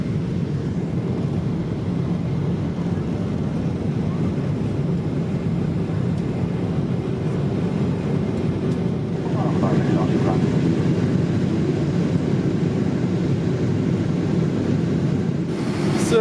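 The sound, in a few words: airplane cabin noise inside an aircraft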